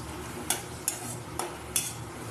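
Onion, garlic and green chili frying for a curry, with four sharp spoon scrapes against the pan spaced across a low, steady sizzle.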